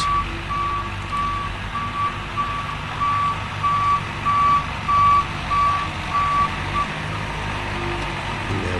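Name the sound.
Cat grader turning around with reversing beeps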